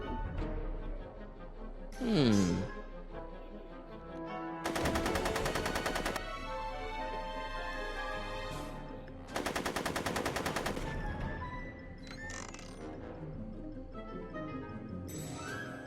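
Two sustained bursts of rapid automatic gunfire from Back to the Future: The Game, a video game, each lasting over a second and rising out of a busy background of music and game sounds.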